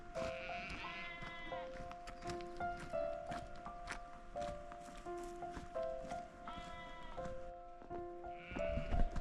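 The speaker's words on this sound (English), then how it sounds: "We're just letting these sheep lead the way." Sheep bleat repeatedly on an open fell walk toward High Street and Mardale Ill Bell, several drawn-out calls rising and overlapping at close range, with footsteps and outdoor ambience underneath.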